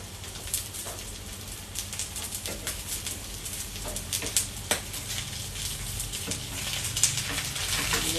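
Eggs frying in a hot pan with sliced zucchini (luffa gourd stir-fry), giving a steady close crackling sizzle with scattered pops throughout and no talk.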